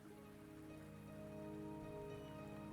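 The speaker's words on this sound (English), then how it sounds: "The rain is subsiding, and the sky will soon clear." Rain in the video game Wuthering Waves, a steady, dense patter with a low, constant wash beneath it and no voices.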